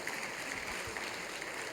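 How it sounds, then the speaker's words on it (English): Steady applause from an audience, a dense wash of clapping that holds evenly for the whole moment with no voices on top. "Let's give them another round of applause."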